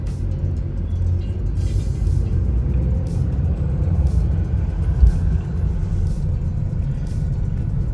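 Several family cars pull away together to head home after a birthday outing at Marine Drive, a steady low engine rumble with traffic noise, continuous and fairly close, with no talking.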